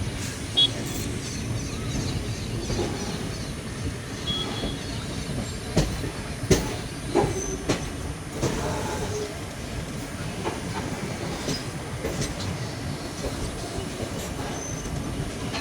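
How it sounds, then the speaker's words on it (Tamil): A train runs along the railway, heard from inside a coach with continuous rolling rumble, rhythmic wheel clicks over rail joints and occasional squeals and knocks, steady and moderately loud. "ட்ரெயின் மூவே ஆகும்."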